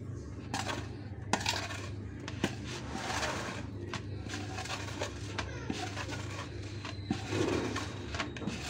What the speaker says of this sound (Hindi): इन सारी चीज़ों को अच्छे से हम कर लेंगे मिक्स